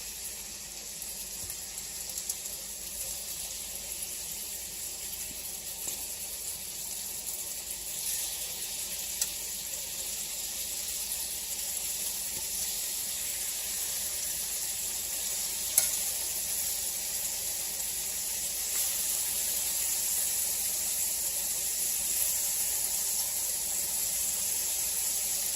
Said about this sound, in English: Notice it's starting to sizzle.